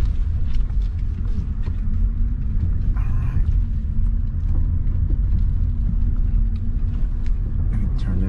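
A car rolls slowly over a gravel road near the Creelsboro Arch parking area, its engine giving a steady low rumble throughout with faint crunching and no talk.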